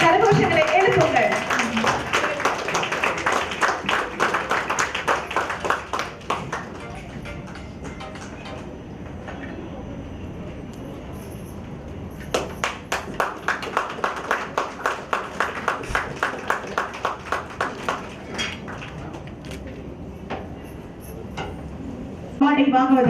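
Audience applause at a 2024 award function held by a Tamil Nadu state professional council in Coimbatore, swelling into a sustained stretch of clapping midway, with an announcer's voice speaking before and around it.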